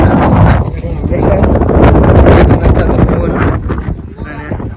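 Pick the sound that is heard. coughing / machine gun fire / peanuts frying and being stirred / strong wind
strong wind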